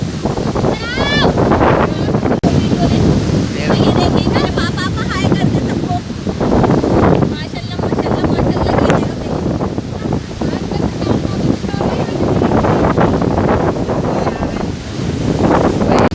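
Sea water surges up under pressure among the rocks on Gadani Beach in Balochistan. Waves roar steadily and close, while strong wind buffets the microphone and people talk throughout.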